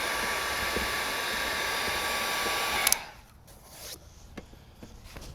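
A heat gun warms window tint film on the frameless rear door glass of a BMW Gran Coupe, giving a steady, close, blowing whir that cuts off partway through, followed by faint handling taps.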